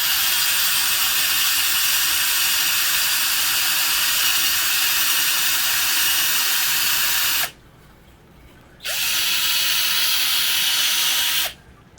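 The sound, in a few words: electric drill drilling into wood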